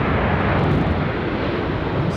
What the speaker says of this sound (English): Nice departure for the 737.